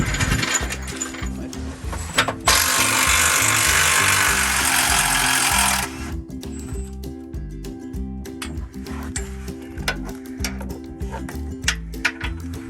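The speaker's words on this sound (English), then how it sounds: "Remove these two 15 millimeter bolts on both sides, driver and passenger, and that should drop this whole sway bar." A ratchet works 15 mm sway bar bolts loose on a Jeep JL, a close, rhythmic run of metallic clicks that continues throughout, partly overlapped midway by a louder steady whooshing noise.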